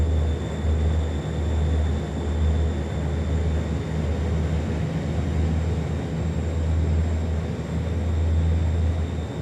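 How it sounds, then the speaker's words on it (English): An aircraft braking hard on landing at a small airport gives a loud, steady low roar with a constant hum, sustained throughout with no voices. "braking this aircraft really, really good"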